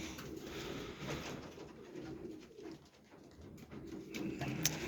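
Soft pigeon cooing murmurs on and off in an enclosed space, low and quiet, with faint rustling throughout.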